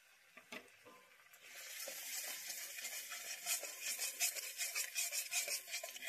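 Spice paste for a prawn, pumpkin and pointed gourd chakka is fried in oil and stirred with a spatula, giving a soft sizzle and rhythmic scraping strokes that grow busier and more regular.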